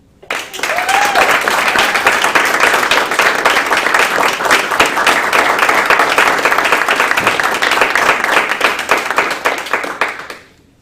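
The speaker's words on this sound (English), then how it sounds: "I'd like to pause for a round of applause for Colonel Mel Cunningham." A large crowd at a military change of command ceremony claps in sustained, even applause for about ten seconds, then it fades out quickly.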